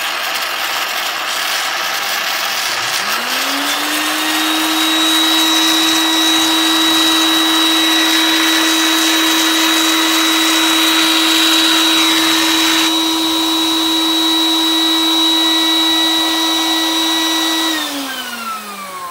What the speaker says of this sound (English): Kind of tricky turning on the vacuum.